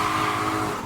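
BMW E28 with a V8 drifting at full throttle, a dense continuous roar of engine and screeching tires filling the short moment, loud and close without any break.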